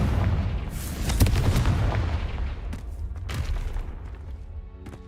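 A Confringo fire spell explodes in Hogwarts Legacy with a heavy, rumbling blast that swells and rolls on, followed by a second boom, loud and close, with no talking.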